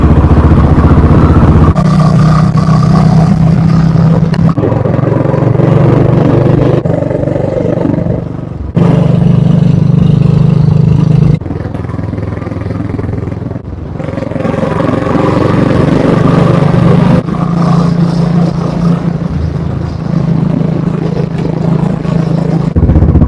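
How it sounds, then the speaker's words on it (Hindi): A Royal Enfield Classic 350 Signals fitted with a SCUD barrel exhaust silencer, its single-cylinder engine thumping loud and steady with a bassy mid-range tone, the pitch rising and falling across several revs and gear changes. "जो इसका साउंड है काफ़ी अच्छा बेसी थंप मिलता है एंड इट्स मिड बेसी, लाउड नहीं है"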